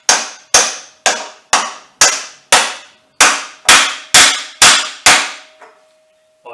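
A motorcycle steering-head bearing race on an XR100 front end is driven in with a bearing race installer: ten evenly spaced, loud metallic hammer strikes ring out close, each decaying quickly, followed by a faint trailing ring.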